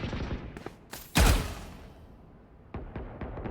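Gunfire in a first-person shooter game: a burst of shots, then one loud, close blast that rings and decays, followed by a few more sharp pops.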